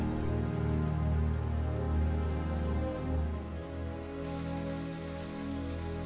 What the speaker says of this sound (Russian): Дождь на улице пошел еще сильнее